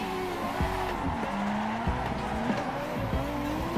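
Tires squeal continuously as a car drifts in Assetto Corsa, the engine note wavering with repeated throttle blips and gear changes, loud and close, with no talking.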